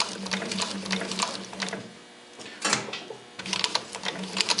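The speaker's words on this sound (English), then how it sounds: "and you start sewing." A SEWPRO 745-30 long arm double needle walking foot sewing machine with jumbo bobbin stitches at close range in fast rattling bursts, pausing briefly before running again.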